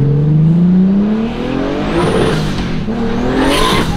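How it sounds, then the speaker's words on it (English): A loud, turbocharged Toyota AE86 engine revs hard and climbs in pitch, roaring close by with a rising and falling whine, no voices. "This has to be one of the best sounding cars in the shop."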